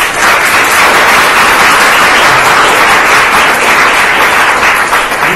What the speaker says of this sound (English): Okay, let's have a round of applause for our panelists.